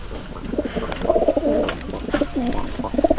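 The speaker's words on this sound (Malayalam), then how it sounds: "അടുത്ത പ്രാവാണ്" Pigeons cooing close by in a series of soft, throaty, rolling calls that repeat through the whole stretch, with a few faint chirps and rustles in the background.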